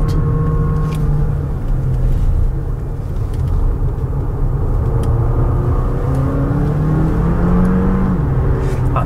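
Jeep Compass plug-in hybrid engine growling loudly under hard acceleration, a steady droning roar with rising harmonics as revs build, close and continuous throughout.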